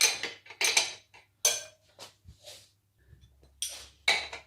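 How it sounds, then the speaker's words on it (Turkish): Metallic clanks and clinks from tightening the rear wheel axle nut on a Kuba Black Cat motorcycle after a chain adjustment, several sharp irregular hits with short gaps, close and fairly loud with no talk. "Zincir ayarımı yaptıktan sonra da arkadaşlar teker milimi e, güzelce sıkıyorum dostlar."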